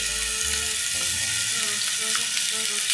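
Garlic hits hot oil in a pan and fries with a steady, bright sizzle that holds evenly throughout, close by and fairly loud, with no voices over it.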